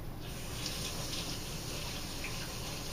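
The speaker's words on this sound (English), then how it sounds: "Now, let me rinse my hands real quick." A kitchen tap runs steadily while hands are rinsed beneath it, a constant close hiss of flowing water into a sink with no speech.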